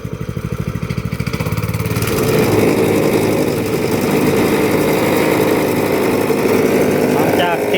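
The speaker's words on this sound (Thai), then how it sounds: "หลังจากติดเครื่องได้แล้วครับ" A small engine on a concrete road-building job in Laos, hard to start, fires up and settles into a steady loud chugging idle that runs on continuously.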